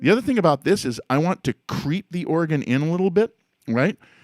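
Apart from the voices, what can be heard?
None of the usual background noises is heard.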